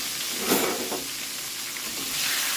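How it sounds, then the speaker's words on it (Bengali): Pieces of catla fish frying lightly in oil with turmeric, a close, continuous sizzle with bursts of crackle as the fish is turned, no voices. "আমি হালকা করে ভাজবো"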